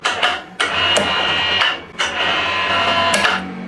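A Dong Cheng DCPB998FK impact wrench runs in several loud, close bursts, each starting abruptly with a sharp attack and holding a steady whirring hammering tone for about a second.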